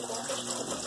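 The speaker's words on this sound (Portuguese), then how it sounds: "Vou estar mostrando aqui que a bomba tá sugando a água." An aquaponics water pump draws and pushes water in a steady, close rushing gurgle that holds even throughout, with no talking.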